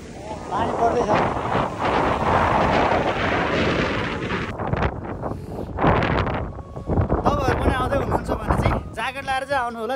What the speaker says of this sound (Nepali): यस्तो हावा हान्छ यस्तो हावा हान्छ अनुहार पुरै सेतो भयो